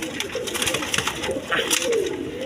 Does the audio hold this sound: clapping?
no